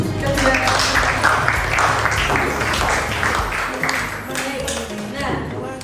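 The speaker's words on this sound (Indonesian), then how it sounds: "Tepuk tangan untuk kedua" Classroom applause for a second student, a steady wash of clapping from a group of pupils that holds for several seconds at moderate loudness.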